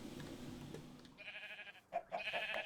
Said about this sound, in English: Is that a sheep under there?